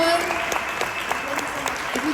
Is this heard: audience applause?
yes